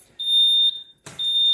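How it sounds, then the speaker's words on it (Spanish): An ADT security alarm in a commercial shop sounds a loud, piercing high-pitched electronic tone in two long beeps, separated by a brief gap with a faint clatter. "vamos a escuchar cómo la alarma prácticamente se ha activado"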